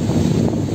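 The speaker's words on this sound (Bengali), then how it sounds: "প্রচণ্ড জোর হাওয়ার প্রেশার দিচ্ছে" Strong gusty wind, with dark skies and a coming storm on the road from Kolkata to Puri, roars against the microphone as a dense, loud, low rumble throughout, with no voices.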